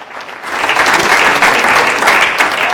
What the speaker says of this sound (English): Let's give that a round of applause.